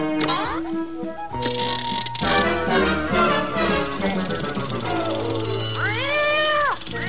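A cartoon-like mechanical cat meows in rising and falling wails over music and mechanical whirring, with voices speaking at points, from a 1980 Richie Rich cartoon.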